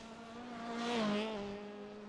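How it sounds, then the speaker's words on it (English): A rallycross car's engine drones in the background at Knockhill Rallycross, a steady tonal hum that swells briefly, as if passing, then settles again. "Engine just idling a bit there, just heard it in the background."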